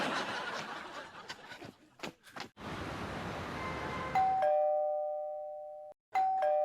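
A doorbell rings repeatedly in a sitcom house, two long sustained electronic chimes sounding loudly after a stretch of laughter and bustle.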